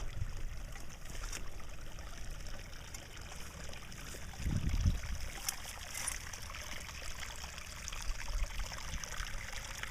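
Steady running water trickles and babbles continuously from a spring, with a brief low rumble near the middle.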